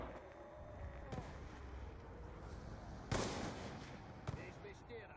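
Gunshots ring out in the zombies video game Die Rise, a few sharp loud bangs spaced apart over a busy game soundtrack, with a voice talking faintly underneath.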